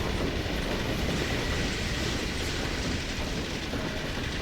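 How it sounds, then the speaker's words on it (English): Train passing in the Half-Life 2 video game: a loud, steady rumble with rhythmic clickety-clack of wheels on track, continuous throughout and not covered by any talk. "Train!"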